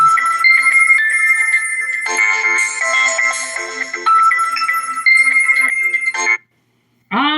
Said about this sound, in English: When do I ever get phone calls during the live?